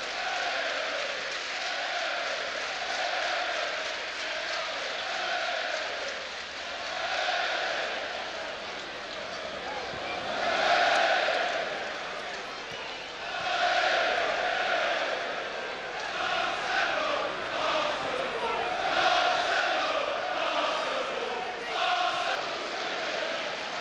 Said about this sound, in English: And a cheer greeting every Arsenal pass now.